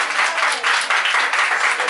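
Audience at a product launch for a Garfield-inspired popcorn bucket breaks into steady, dense clapping, loud and close, running the full length without talk.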